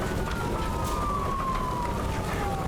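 Police car siren in the video game Nobody Wants to Die, a sustained wailing tone sliding slowly downward over a dense, steady rushing background.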